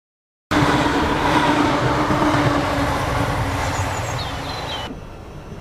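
A Glasgow suburban train rumbles steadily along the track, loud and close, with a continuous rushing drone that eases slightly toward the end.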